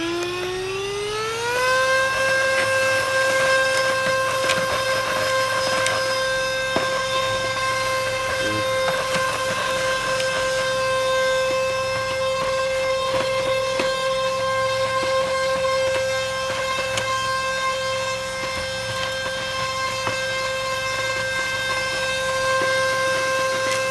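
A Hoover vacuum cleaner, borrowed for drain cleaning, spins up with a rising whine and then holds a steady, loud, tonal motor hum and airflow rush throughout, with no talking.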